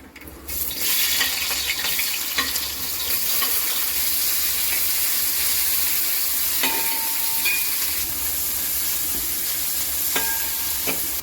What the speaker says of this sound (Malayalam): ഉലുവ പൊട്ടിക്കഴിഞ്ഞിട്ട് മൂന്ന് സബോള കട്ട് ചെയ്തത്